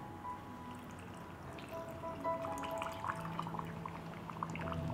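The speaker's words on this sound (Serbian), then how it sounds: "I sada ću teglu napuniti sa slanom vodom." Salt water is poured into a jar packed with cabbage, a soft, close liquid trickle and gurgle with rising tones as the jar fills, quiet and with no talking.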